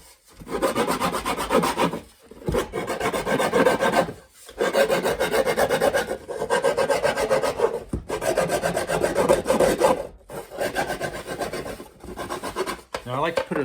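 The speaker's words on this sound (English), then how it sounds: "So right off the bat, I just want to get my little round file." A small round file rasps against the wood of a cigar box guitar, long steady scraping strokes in repeated bursts with brief pauses between, close and loud with no talk.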